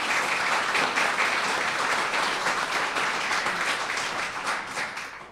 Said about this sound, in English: So a big round of applause for Sam.